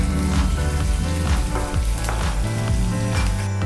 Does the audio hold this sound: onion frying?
yes